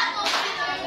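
Schoolchildren in a classroom clapping together in a short, dense burst, close and fairly loud.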